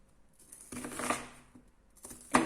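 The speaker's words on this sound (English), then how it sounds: "So I like to just cut my onion across, give it a turn and cut it through" A knife slices through an onion on a cutting board, chopping it into big chunks; a few quiet cuts and taps come close by in short bursts, with one sharper chop near the end and no talking.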